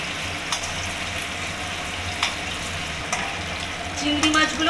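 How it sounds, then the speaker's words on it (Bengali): Prawns fry in hot oil in a wok with a continuous close sizzle, marked by a few sharp crackles and clinks, and the sound grows louder and busier near the end. "এবার আমি চিংড়ি মাছগুলোকে তেলের মধ্যে দিয়ে ভালো করে লাল করে ভেজে নেব"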